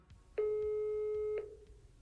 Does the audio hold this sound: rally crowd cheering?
no